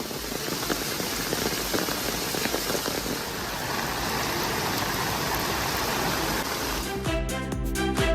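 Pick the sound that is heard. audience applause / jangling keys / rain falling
rain falling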